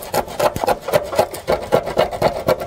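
A screwdriver scrapes rust off a car body in quick, even back-and-forth strokes, about four rasping scrapes a second, close and alone.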